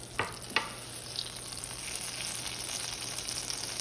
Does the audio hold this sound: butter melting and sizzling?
yes